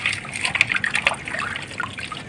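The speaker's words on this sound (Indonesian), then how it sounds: "Kita cuci dulu." Kaffir lime leaves and pandan leaves are rinsed in water by hand, producing close, uneven trickling and light splashing.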